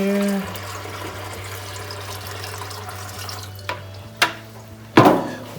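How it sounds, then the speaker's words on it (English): Warm water is run and poured into the tank of a margarita machine, a low steady stream that ends in a few splashy gushes near the close, with a motor hum underneath. "And put a little water in here."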